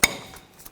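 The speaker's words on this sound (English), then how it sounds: "I'm going to take the brake pads, get those started, slide those in place" A brake pad slides into the caliper bracket on the front brakes of a 2015-2020 Cadillac Escalade, giving one sharp, close metallic clink followed by a couple of faint taps.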